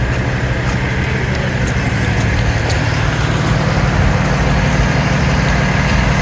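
A fire engine drives along a city street, its loud steady engine roar and road noise filling the cab, continuous and close throughout.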